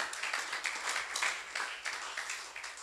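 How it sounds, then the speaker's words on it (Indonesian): A church congregation claps during an Indonesian Christmas sermon, faint and fairly distant, with the clapping falling into loose rhythmic bursts that pulse steadily for a few seconds. "Beri tepuk tangan"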